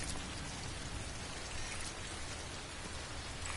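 Rain falling in Death Stranding, a steady, even hiss of dense drops spread across the whole clip at low volume, with no voices.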